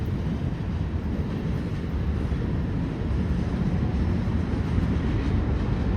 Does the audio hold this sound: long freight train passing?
yes